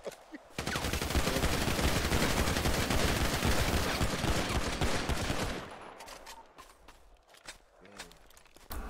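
Video game gunfire from GTA V played on a FiveM server: a long, loud, continuous burst of rapid automatic shots for about five seconds, followed by quieter scattered clicks and thuds.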